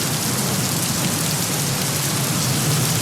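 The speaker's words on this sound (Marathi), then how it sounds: "तुफान पाऊस बरसतोय" Heavy monsoon rain pours steadily onto flooded streets in Mangaluru, Karnataka, a dense, unbroken roar of downpour that stays loud from start to finish with no voices.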